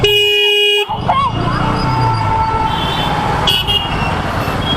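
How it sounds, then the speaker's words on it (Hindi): Dense roadside traffic on a jammed road, with a long steady car horn blaring at first, then a broad rumble of engines and passing vehicles and brief horn toots near the end. "बहुत ट्रैफिक है।"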